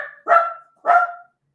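A dog barks twice, loud and close, with a short gap between the two barks and silence after.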